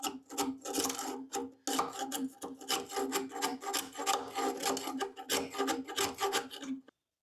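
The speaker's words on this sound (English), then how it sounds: "I'm just scraping off some of the excess where they just painted over where the old backing was" Excess paint is scraped off a surface in a boat's engine room, making rapid, rhythmic rasping strokes, close and fairly loud, that stop abruptly at the end.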